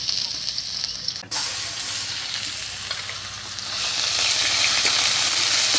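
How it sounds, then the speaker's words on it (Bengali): Onion frying in a pan, a loud steady sizzle and hiss close by that swells stronger toward the end, with a sharp knock early on. "পেঁয়াজটা একটু ভেজে নেব"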